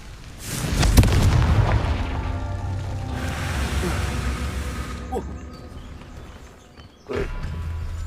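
A Confringo spell in Hogwarts Legacy bursts into a loud, deep boom near the start, then a rumbling tail fades out before a second, smaller blast near the end.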